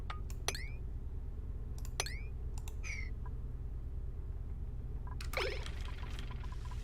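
Crude oil dripping in the game Oxygen Not Included, heard as a few bright, quick liquid blips with falling pitch, scattered over about seven seconds against a low steady hum, and quiet silence between them.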